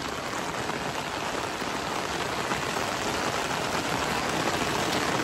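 Heavy monsoon rain falls steadily on a flooded village, a dense, loud and unbroken hiss of drops with no voices.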